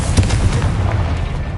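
A Confringo fire spell in Hogwarts Legacy explodes with a loud, deep, rumbling boom that fills the moment and rolls on without a break.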